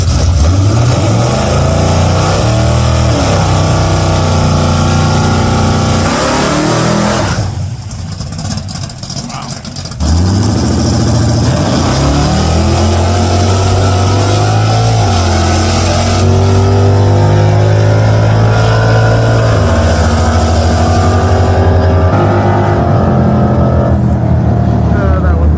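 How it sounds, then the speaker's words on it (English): The Roadkill crop duster drag car launches off the line with its tires spinning, the engine roaring loud and close with rising revs, a brief drop, then another long, sweeping pull. "It just blazed the tires off the line."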